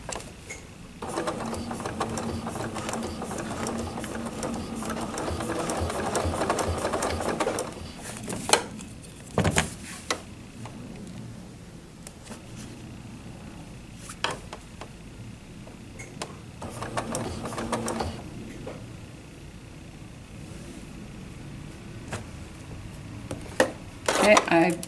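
A sewing machine stitches a table runner along a ruler, its steady whirring running in bursts with short pauses and light clicks and clatter between, with a voice talking over the stitching.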